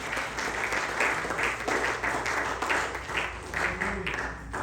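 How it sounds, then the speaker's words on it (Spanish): A church congregation claps loudly in an even, pulsing rhythm of repeated hand strikes, a full-room sound with faint singing or voices beneath. "Dale fuerte palmas al Señor."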